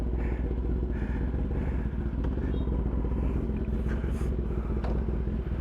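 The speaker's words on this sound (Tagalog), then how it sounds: "lakas ng tambucho. Full titanium exhaust na AR." Motorcycle fitted with a full titanium exhaust riding at night, a loud steady rumbling exhaust drone close to the microphone with wind buffeting throughout.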